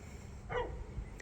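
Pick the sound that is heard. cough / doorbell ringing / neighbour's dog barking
neighbour's dog barking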